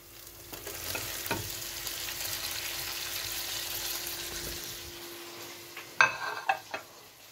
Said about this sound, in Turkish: Burada efendim patates, kabak, patlıcan. Bunu da şöyle ilave ediyoruz.